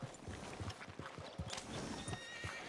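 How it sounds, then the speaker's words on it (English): A horse in the Red Dead Redemption 2 western game whinnies loudly with hoof clip-clops, a short burst of neighing close up over steady game ambience. "Can't you control that damn horse?"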